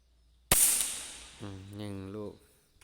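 A PCP FX air rifle, 2021 model, fires a single sharp crack with a quick fading tail, then a voice speaks briefly afterward.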